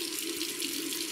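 A bathroom tap runs steadily into a sink to wet the face before a wet shave, a constant moderate rush of water with no break.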